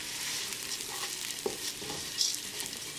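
Oats and onions sizzling and frying in a pan on medium heat while being stirred, a steady hiss with occasional scraping and clicks of the spoon, close and alone.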